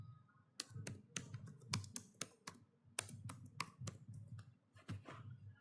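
Computer keyboard typing Python code, a steady run of crisp, close key clicks in irregular bursts, some strokes louder than others, with no talking.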